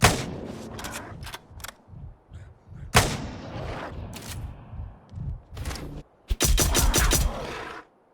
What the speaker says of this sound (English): just starting with the hunting rifle. Making sure I get that headshot in.